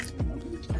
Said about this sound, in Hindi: अब मैदा के अंदर हम नमक ऐड करेंगे और अब पानी ऐड करके घोल बनाएंगे